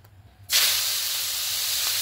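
Prawns dropped into hot mustard oil set off a sudden loud, steady sizzling hiss that starts abruptly and holds on without pause.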